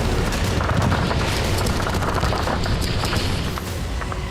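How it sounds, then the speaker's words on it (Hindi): Russian troops fire at a small two-seat aircraft flying overhead, a loud, dense, unbroken barrage of gunfire with overlapping shots and booming reports throughout, with no voices. "हवा में उड़ रहा है एक छोटा एयरक्राफ्ट और रूसी फौज इसे गिराने के लिए फायरिंग कर रही है।"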